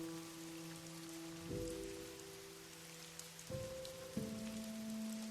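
Steady rain falling on a surface, a continuous even patter with low tonal music drones sustained underneath, no voices.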